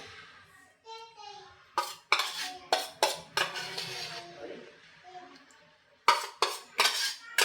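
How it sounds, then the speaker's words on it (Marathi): Leftover toor dal is scraped from a pot into another vessel in a series of sharp metallic scrapes and clinks of a spoon against steel, with brief pauses between strokes; a voice talks faintly in the background. "ही जी उरलेली तूर डाळ होती ना ही मी एका भांड्यामध्ये काढून घेते"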